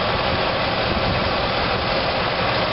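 A 1990 Cadillac Eldorado with a 4.5 V8 idles steadily, a smooth, even, close engine drone with no talk over it.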